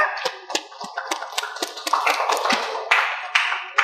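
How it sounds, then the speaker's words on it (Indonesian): A classroom group claps for a presenting group with scattered, uneven hand claps that start sparse and thicken into a quick ragged patter, heard close and without talk. "Oke, tepuk tangan untuk kelompok"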